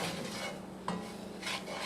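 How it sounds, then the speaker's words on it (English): Flour is stirred into pork in a pot for chile verde, giving soft scraping strokes over a faint sizzle, quiet and close. "I'm just going to mix all this"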